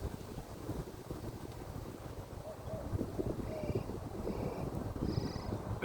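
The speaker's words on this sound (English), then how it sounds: "I don't know if you're going to be able to hear me with the wind." Wind blows outdoors straight into the microphone, making a constant low rumbling buffet with gusty fluctuations throughout, loud relative to the faint background.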